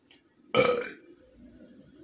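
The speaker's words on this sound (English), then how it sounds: "I can make myself burp every time" One loud, close, deliberate burp from a person, sudden and lasting about half a second, followed by quiet room tone with no talking.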